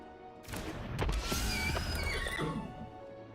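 A Seraphic Steed creature card being cast in MTG Arena brings a loud, close horse whinny that rises and trails off over about two seconds, with a faint clip-clop underneath.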